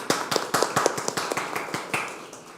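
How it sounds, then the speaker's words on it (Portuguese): Applause at the Festival Costume Gourmet, a small group clapping steadily and close by in a quick, even rhythm for a couple of seconds, with no voices over it. "Palmas pra você, palmas pro festival."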